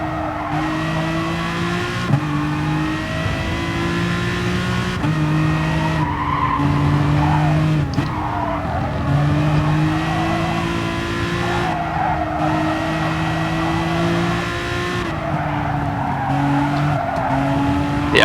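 Race cars in GT Sport idle and rev along a warm-up lap, their engines droning steadily with shifting pitch, tires squealing at moments, all loud and continuous with no talking.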